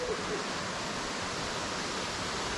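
A waterfall on a creek at a fishing spot gives a dense, unbroken rushing roar, loud and steady throughout.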